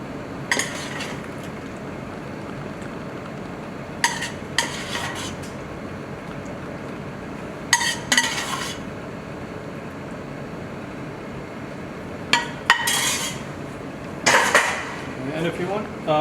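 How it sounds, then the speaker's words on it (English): Green curry ladled from a cooking pot onto a plate, heard as scattered clinks and scrapes of a metal ladle against pot and dish in short bursts, close and fairly quiet over a steady background hum. "I might use a ladle."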